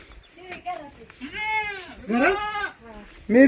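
A goat bleats several times close by, wavering cries one after another, with brief human voices mixed in.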